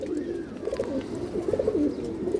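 Domestic pigeons coo in low, repeated throaty phrases over a steady noisy background, close and continuous with no speech.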